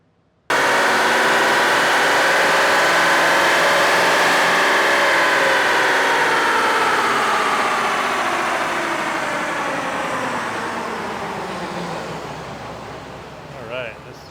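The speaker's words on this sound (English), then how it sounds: "We're gonna do a couple runs, and hopefully we get some real numbers at what this truck can put down to" A 2016-2023 Toyota Tacoma pickup with an aftermarket air intake kit, run hard on a chassis dyno: a loud, close engine roar climbs steadily in pitch through a long pull, then eases off near the end.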